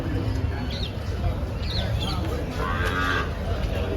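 A Gir cow lets out a low moo at a cattle market in Dhule, against a constant outdoor background hum, with a few faint chirps above it.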